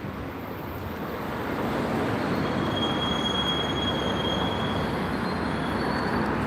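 A train moves through a railway station in Gloucester with a steady rolling roar and a thin high wheel squeal, growing louder after the first seconds and then holding.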